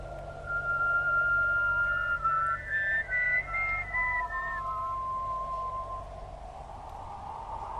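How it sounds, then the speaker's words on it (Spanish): Eerie whistling rises and glides through several thin tones over a low steady drone, a spooky sound effect in a Spanish-language tale of vampires and witches, fairly loud and sustained with no talking over it. "se escuchó un silbido."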